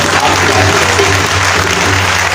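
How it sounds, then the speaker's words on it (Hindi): A church congregation claps together at the close of a Catholic service, with steady, dense applause continuing unbroken from start to finish. "भरपूर तालियां बजाकर"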